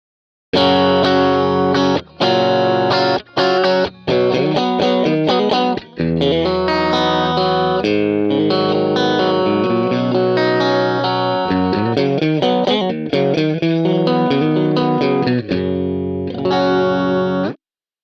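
An electric guitar played through a Roland JC-120 amp plugin rings out loud, mostly clean chords and single notes with short gaps between phrases, alone with no talking.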